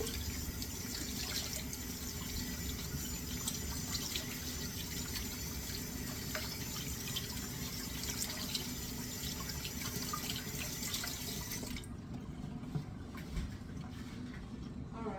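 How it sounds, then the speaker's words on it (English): A kitchen tap runs steadily while hands are rinsed during buffalo chicken sandwich prep, a constant close wash of water that thins slightly near the end. "You want to rinse your hands?"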